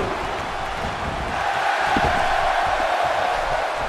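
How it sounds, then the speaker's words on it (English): Wrestling arena crowd in WWE 2K16 during an extreme rules tag match, a continuous dense roar of cheering that swells slightly toward the middle, with a few thuds underneath. "That's how you make this crowd stand on its feet."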